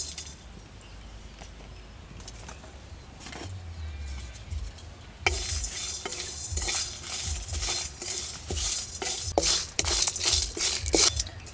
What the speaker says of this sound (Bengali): এখানে আছে তেজপাতা, শুকনো লঙ্কা, ধনে, এলাচ, জিরা, মৌরি সব একসাথে আমি ভেজে নেব